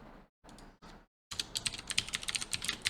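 Rapid keystrokes on a computer keyboard while entering form input for a JSP web page, a few short bursts of clicking followed by a denser, louder run of close typing, with no voices.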